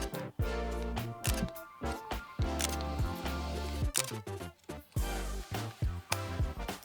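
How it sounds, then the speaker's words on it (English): Mechanical shutter of a Fujifilm X-S20 camera firing repeatedly, a series of close, crisp clicks in quick irregular bursts with a slight squeaky mechanical character. "That is the mechanical shutter"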